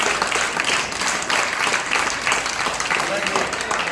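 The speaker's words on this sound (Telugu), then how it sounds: "గట్టిగా క్లాప్స్" Applause from an audience at a school event, a dense, sustained burst of many hands clapping at close range throughout.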